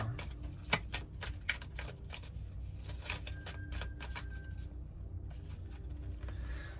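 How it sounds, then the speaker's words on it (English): A deck of cards being reverse shuffled by hand, rapid riffling and flicking clicks in quick bursts, close and fairly quiet, with soft low rumble underneath. "Do a little reverse shuffle here."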